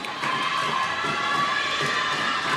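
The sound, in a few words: girls cheering for their volleyball players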